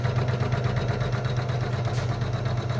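A digital cloth embroidery machine starts running, giving a steady, even mechanical hum with fine rhythmic pulsing, fairly quiet and alone without voices.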